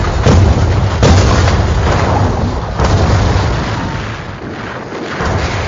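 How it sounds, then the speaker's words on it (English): Battleships bombard the Normandy coast at Omaha Beach in 1944, with repeated deep booms and shell explosions over a continuous rumbling roar, the blasts heavy and distant-sounding. "Bombardment and shelling from the battleships pound the coast"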